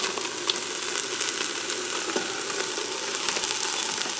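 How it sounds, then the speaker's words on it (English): Ground beef browns in a Ninja Foodi pot with a steady, close crackling sizzle that holds throughout, dotted with small pops and no voices. "So I'm going to go ahead and get my ground beef in here and start this browning."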